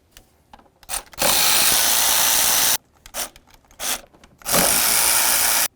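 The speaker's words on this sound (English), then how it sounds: "Now we can move along to removing all 4 of our 8mm bolts that hold the throttle body to the intake." A power tool spins out 8mm bolts holding the throttle body to the intake manifold on a 2007-12 Nissan Sentra, two loud sustained whirring bursts separated by short handling clicks and rattles, close up.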